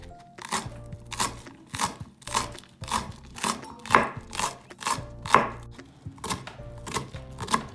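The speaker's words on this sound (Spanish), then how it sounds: "Y así picaremos las otras 2 cebollitas" A knife chops green onions on a cutting board in quick, crisp, rhythmic strokes, about two per second, close and clear with no voices.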